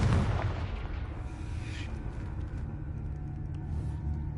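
A Confringo blast spell bursting in Hogwarts Legacy, a dense rumbling explosion at the start that fades into a low, lingering roar, with no talk over it.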